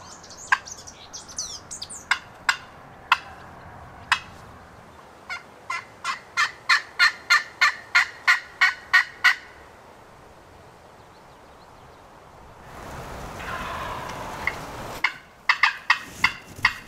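A wild turkey gobbles from the pines during a spring hunt in Indiana, heard as a fast run of sharp rattling notes at a moderate distance, with quiet woods around.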